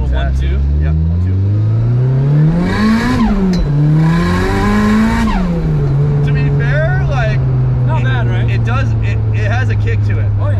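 Nissan 180SX with a turbocharged engine revving hard through a quick gear change, pitch rising and falling twice before settling into a steady loud drone, with people talking over it inside the car.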